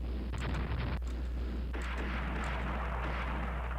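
Heavy battleship guns boom in a naval video game, a couple of deep blasts followed by a sustained rumbling roar over a steady low hum.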